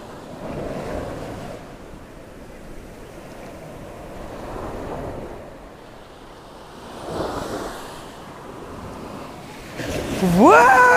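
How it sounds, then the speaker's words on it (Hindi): Big ocean waves rolling in and breaking on the sand at Anjuna Beach, Goa, a broad steady surf roar swelling in surges with wind noise on the microphone, and a voice rising over it at the end. "अब फिर से आ रहा है बड़ा वाला लहर, अब पास में आएगा फिर से।"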